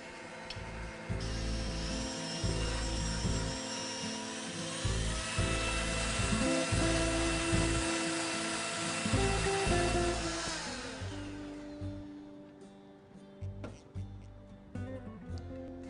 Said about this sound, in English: with my handheld electric mixer, you don't need a big stand mixer to make a coffee cake. I'm just gonna cream together these ingredients for about a full minute.